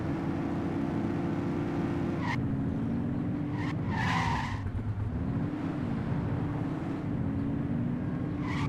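In a police-patrol driving video game, a car brakes hard and its tires skid with a sustained squeal over a steady engine drone, joined by a few sharper screeches and knocks.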